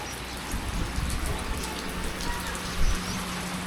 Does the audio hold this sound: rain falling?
yes